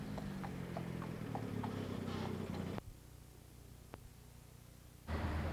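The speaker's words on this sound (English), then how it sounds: "the hollow sound made by their feet on the bridge" Horse hooves on a bridge, a run of hollow clip-clop knocks at a walking pace over a low rumble, then the sound cuts to quiet with one more knock before it returns.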